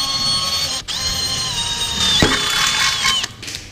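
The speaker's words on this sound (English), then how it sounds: "Life knows few pleasures like a good sharp drill bit." A power drill with a sharp pine-tree style bit whines steadily while boring a hole during a truck axle seal repair, loud and close, with brief pauses and a rising pitch as the bit cuts.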